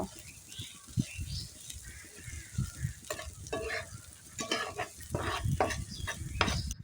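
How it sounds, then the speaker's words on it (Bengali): Chopped onions fry in a pan, a close sizzle broken by repeated scraping and stirring strokes that grow busier toward the end. "আর পেঁয়াজ কুচিগুলোকে"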